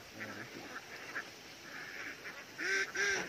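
A flock of ducks sheltering near a rice paddy in the Philippines quacks and honks, the calls faint and distant and overlapping, growing slightly louder near the end.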